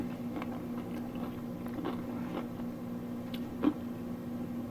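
Keto tortilla chips made from pork rinds crunch as someone chews them close up, a series of crisp bites and crackles over a steady low hum, with no talking.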